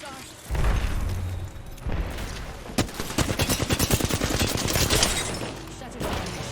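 Video game gunfire crackles as rapid bursts of automatic fire, with a sharp blast and dense rattling volleys in the middle, mixed with game sound effects while a player talks over it.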